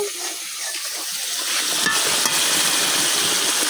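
Spice paste for a pangas fish-head and potato curry sizzles in hot oil in a pan, a close, loud, continuous frying hiss with faint scraping of stirring and no voices.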